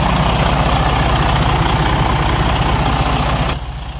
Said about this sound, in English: Got the new starter in, truck back running.